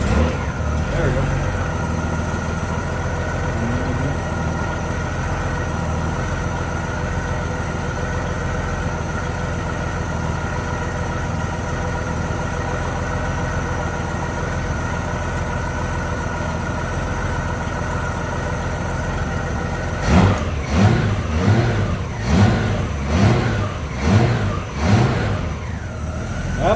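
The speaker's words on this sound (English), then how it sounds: "So now we're going to crank it up again, and we're going to check for leaks." A Honda GL1500 motorcycle engine idles steadily with a low, even rumble after a carburetor install, then near the end is blipped through several sharp revs in quick succession.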